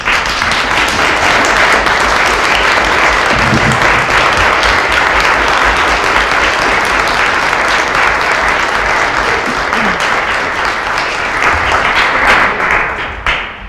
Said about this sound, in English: So could we just give them a round of applause?